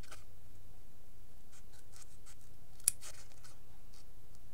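Scissors cutting along the edge of glitter foam, a series of soft close snips and scratchy cuts at a steady pace, quiet, with one sharper click.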